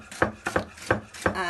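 A knife chops fresh fennel on a board: four crisp, evenly spaced cuts in quick rhythm, close and fairly quiet.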